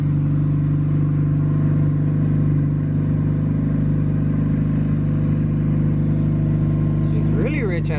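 A turbocharged Honda D16Z6 engine idles rich with a steady, even low drone, close and constant throughout, with a brief voice near the end.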